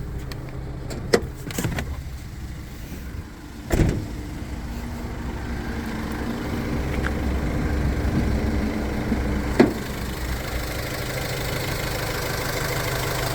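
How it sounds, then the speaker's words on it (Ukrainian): The diesel engine of a 2017 Renault Master tow truck idles steadily with a low, even rumble, broken by a few sharp clicks and knocks. "Покажемо стан двигуна, як працює двигун при такому пробізі"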